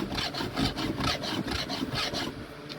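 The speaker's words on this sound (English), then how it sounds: "Now I sharpen, usually I try to sharpen as soon as I have any sign that the saw is dull." Stihl 2 in 1 file sharpening a chainsaw chain, a close, even run of about a dozen quick rasping strokes in steady rhythm, alone.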